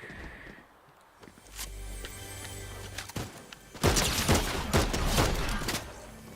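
Video game gunfire crackles in rapid bursts, building from scattered shots into a dense, loud volley of overlapping reports near the end.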